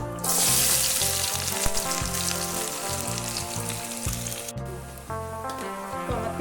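Chopped onion, garlic and green chili frying in hot oil, a steady bright sizzle running through the whole stretch beneath prominent background music.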